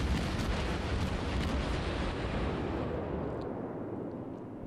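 A heavy rumbling blast from naval guns in the video game World of Warships fades into a long roaring decay, loud and close, with no voices.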